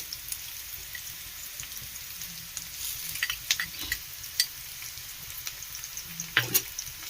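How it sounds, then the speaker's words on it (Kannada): Ginger garlic paste frying with browned onions for chicken fry, a soft continuous sizzle with occasional sharp pops and spatters, close and fairly quiet with no talk. "ಇವಾಗ ನೆಕ್ಸ್ಟ್ ನಾನು ಶುಂಠಿ ಬೆಳ್ಳುಳ್ಳಿ ಪೇಸ್ಟ್ನ ಹಾಕ್ತಾ ಇದ್ದೀನಿ"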